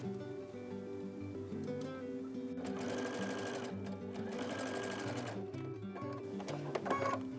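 A sewing machine stitches quilt pieces along a diagonal seam line with a pin nearby, its motor humming steadily and close, surging into faster, louder runs between brief slower passages.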